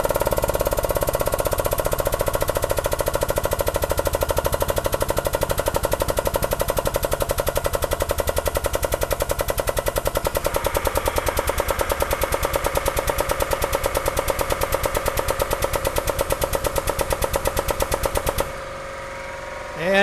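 A DIY hydraulic bending brake presses a 1/2 x 2 inch flat bar at 20 tons. A loud, fast, steady mechanical pounding and rattling runs for about eighteen seconds, then stops abruptly into near silence.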